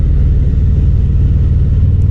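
A 2025 Harley-Davidson Fat Boy engine pulls steadily under throttle, a deep, loud, continuous low rumble close by with no talk over it.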